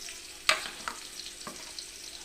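Fried potatoes are stirred and mixed with a ladle in a pan, giving a few soft scraping strokes over a faint sizzle.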